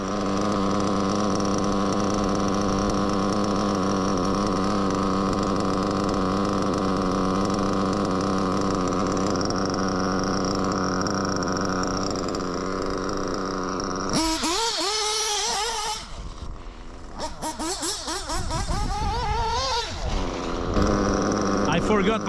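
Reds R5R nitro engine runs with a high, buzzy whine at steady idle, then the pitch shifts and wavers as the throttle and idle are adjusted, continuous and close throughout.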